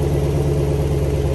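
A 2022 Dodge Durango with a Corsa exhaust runs loud and steady at close range, a deep continuous engine rumble from a light rev with no distinct pops standing out.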